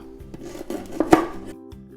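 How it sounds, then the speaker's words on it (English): A knife chops fresh lemongrass on a board in a home kitchen while making Thai green curry, a series of close, irregular soft knocks and thuds with one firmer strike in the middle. "so I'm gonna chop it up small"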